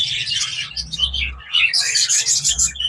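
Several bird chicks in a breeding box give high, thin chirps in two bursts with a short gap, close by, with low handling noise underneath.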